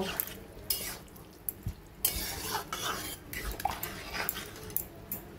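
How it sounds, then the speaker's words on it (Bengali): A spoon stirs dal with vegetables and added water in a cooking pot, making uneven scraping and knocking against the metal with soft sloshing, close and moderately loud. "দিয়ে দেব পরিমাণ মতো জল, দিয়ে ভালো করে সবজির সঙ্গে মিশিয়ে নেব"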